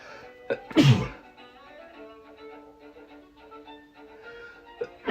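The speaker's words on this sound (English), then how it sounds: "I gotta sneeze" A single loud sneeze near the start, followed by quiet background music.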